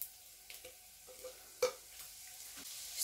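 Three minced garlic cloves stir-fried in roughly four to five tablespoons of oil for an enchilada red sauce: a faint, steady sizzle with a few soft scrapes and taps of a spoon against the pan, with no voices.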